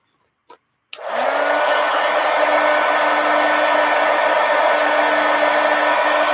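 A hair dryer switches on after a couple of clicks and blows a steady, loud whooshing whine to dry thick, wet paper stars on a calendar collage, with no talk.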